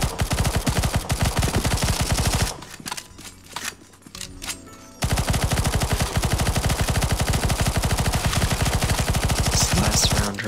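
Rapid automatic gunfire from players shooting in a zombie-escape video game map, loud and dense, with a brief drop to sparser shots midway before the sustained firing resumes; no talking.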